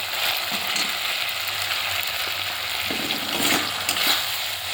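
Tomatoes frying in hot spiced mustard-oil masala for a fish curry give a steady, close sizzle, broken by scraping stirs of a spatula against the pan, with no talking.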